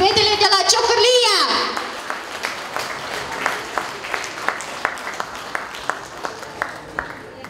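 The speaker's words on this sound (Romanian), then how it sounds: "Cred că bărbații noștri vă susțin cu aplauze. Aplauzele pentru fetele de la Ciocârlia!" Audience applause for the Ciocârlia girls at a village Men's Day show: a voice sings or calls out at first, then scattered applause settles into steady rhythmic clapping in unison.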